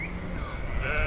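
Sheep bleat over a steady outdoor rumble during a seasonal flock drive of a large herd, a couple of wavering calls rising and falling within a second, fairly close.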